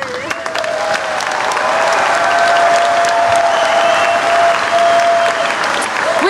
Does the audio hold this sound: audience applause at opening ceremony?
yes